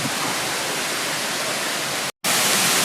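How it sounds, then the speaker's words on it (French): Nam Mueng Waterfall on Koh Samui, Thailand, cascades in a steady, close, full-bodied roar of rushing water, broken only by a split-second dropout near the end. "Et voilà, Nam Mueng Waterfall. Elle est sympa cette cascade."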